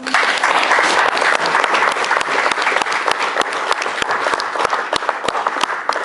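Loud, close, sustained applause from an audience at a Maori cultural performance in a museum, sharp individual claps cutting through a dense wash of hands.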